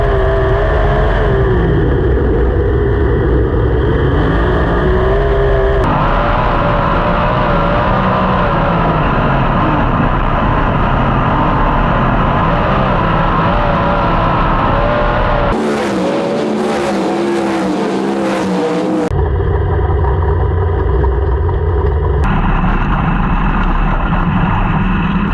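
Sprint cars racing on a track, their engines roaring loudly and continuously with shifting pitch as they pass and circle, the dense engine sound filling the whole stretch.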